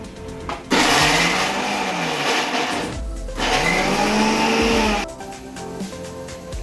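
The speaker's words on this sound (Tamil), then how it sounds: "கொஞ்சமாக கொத்தமல்லி இலை, கொஞ்சம் புதினா, அப்புறம் ஒரு 100 போல சின்ன வெங்காயம், இதையும் சேர்த்து நம்ம அரைச்சி எடுத்துட்டு வந்துடலாம்" A kitchen mixer grinder whirs loudly while blending coriander leaves, mint and small shallots, running in two long bursts with a short pause between them, the motor pitch shifting as the load churns, then stopping abruptly.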